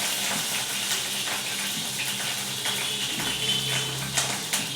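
Tap water runs in a steady, even rush in a home kitchen while samosas are being made, close and continuous throughout with no talking.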